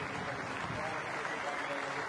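A cricket crowd at a one-day international applauds a batting display, a dense, steady wash of clapping heard from a distance throughout, with a faint voice underneath.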